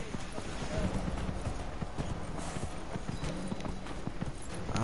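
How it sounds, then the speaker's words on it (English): Rapid hoofbeats of a horse in the video game Dragon Age: Inquisition clatter continuously in a galloping rhythm, with someone talking over them throughout. "Come on, horse. Keep it moving."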